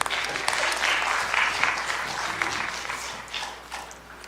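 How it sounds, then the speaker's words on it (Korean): A church congregation applauds during a Bible study revival meeting, a moderate, steady patter of clapping from a gathered crowd that gradually thins toward the end, heard without talk over it. "박수 한번 쳐주세요."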